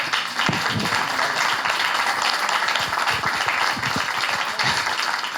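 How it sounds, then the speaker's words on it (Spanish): An audience at the launch of a rural sustainable-living guide in Chile applauds, giving a steady spread of clapping with some sharper individual claps standing out across the stretch. "pedir un aplauso porque es un gran trabajo el que han desarrollado"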